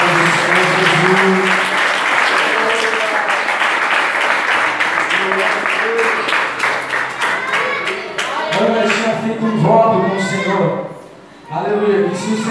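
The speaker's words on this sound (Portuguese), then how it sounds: "E palmas que exalam o nome do Senhor Jesus." Congregation clapping during a church service, steady dense applause under continuous loud talk and music, briefly dipping near the end before resuming.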